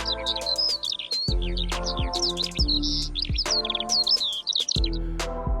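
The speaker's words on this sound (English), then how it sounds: "The air is alive with the calls of warblers and noddy terns" Chirping, twittering birdsong of warblers and noddy terns fills the air on Cousin Island, with bright repeated calls heard over a narrating voice and deep low tones swelling beneath.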